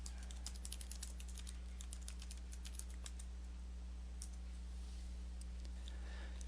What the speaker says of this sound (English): type in a new name and then press Enter on your keyboard